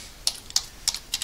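Computer keyboard typing while entering a part name in 2D/3D design software: four short bursts of keystrokes, quiet and close, with no talking.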